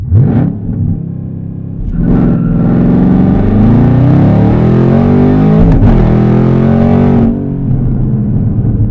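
ZL1 Camaro launching from 0 to 60 with traction control on, the engine roaring loud and close, climbing in pitch through gear shifts with brief dips between, then cutting back near the end.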